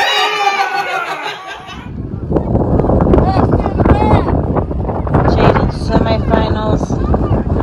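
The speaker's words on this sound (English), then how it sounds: "Listen to that wind." Strong outdoor wind buffeting the microphone during a family vacation, a loud continuous roar that takes over after a voice and laughter at the start.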